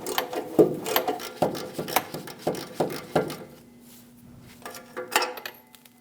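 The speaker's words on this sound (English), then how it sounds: "I'm going to use a 14mm wrench. And I'm going to hold that still while I remove the bolt" Wrench working an exhaust manifold bolt on a Ram 1500 5.7L V8, a series of close, sharp metallic clicks and ratcheting taps in irregular rhythm, then a quieter pause with a faint hum before a few more clicks.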